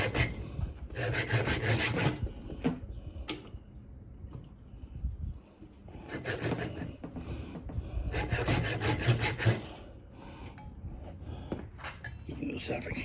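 A hacksaw cuts through a gun grip in close, rasping back-and-forth strokes that come in several bursts with short pauses, with a person talking at times between and over the sawing.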